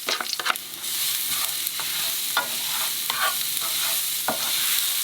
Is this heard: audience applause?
no